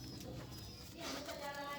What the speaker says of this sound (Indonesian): Dan merpati ini termasuk dari merpati tinggian ya semeton.